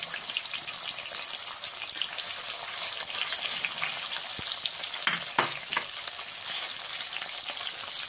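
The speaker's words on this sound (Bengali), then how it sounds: "কাঁটাগুলো আমি একসাথে সব ভেজে নেবো না, অল্প অল্প দিয়ে কাঁটাগুলো ভেজে নেবো" Bhetki fish bones frying in oil in a wok, a dense continuous hiss of sizzling, with a brief sharp knock and a couple of stirring scrapes partway through.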